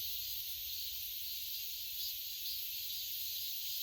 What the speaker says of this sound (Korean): 지금 한참 매미들이 울어대고 있습니다